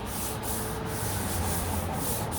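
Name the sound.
sanding Corvette door bodywork with 800 grit sandpaper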